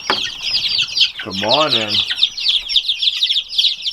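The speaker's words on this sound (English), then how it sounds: "Listen to all the chicks. They sound so happy." A dense, constant chorus of high chicks' peeping and soft clucking fills a farm poultry house, with a man's brief greeting spoken over the middle.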